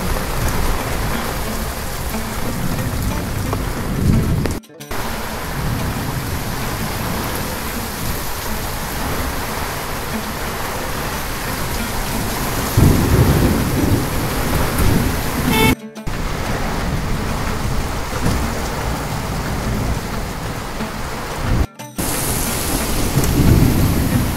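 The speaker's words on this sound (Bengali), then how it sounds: "প্রচন্ড পরিমাণের বৃষ্টি পড়তেছে, প্রচন্ড পরিমাণের।" Heavy downpour pelting steadily during a thunderstorm, with deep thunder rumbles swelling through the roar of rain; loud and continuous, broken by a few brief dropouts, with no voices.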